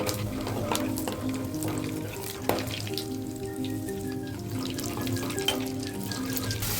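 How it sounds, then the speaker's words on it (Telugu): Mustard seeds and cumin fry in oil in a kadai, giving a steady, even sizzle that stays close and fairly constant throughout, with a couple of brief sharper pops and a faint tonal hum in the background. "స్టవ్ ఆన్ చేసి కడాయి పెట్టుకొని ఆయిల్, ఆవాలు, జీలకర్రని వేసి మంచిగా ఫ్రై చేసుకోవాలి."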